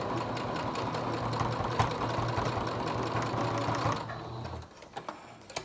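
A sewing machine topstitches a fabric face mask in one steady hum that strains slightly over a thick center seam. It stops near the end, leaving a few faint handling clicks.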